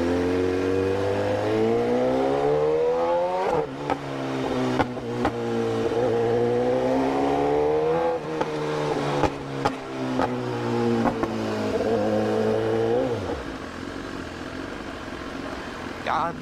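A motorcycle fitted with an Akrapovic exhaust revs hard and close, its deep rumble rising and falling through sustained throttle blips, with a brief lull near the end and people talking over it.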